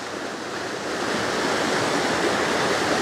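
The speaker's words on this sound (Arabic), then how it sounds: "هيدا نهر البردوني عم نشوفه بعد العاصفة" The Bardouni river rushes after a storm, a steady, full roar of fast-flowing water that swells slightly louder after the first second, heard without any talk.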